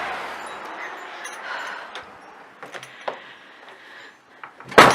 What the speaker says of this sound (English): Let me get this door here.